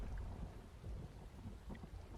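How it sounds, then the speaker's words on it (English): Rain and thunder from an Unreal Engine game weather system, a dense steady hiss of rainfall over a deep low rumble, continuous and moderately loud with no voices. "increase the effect of the rain"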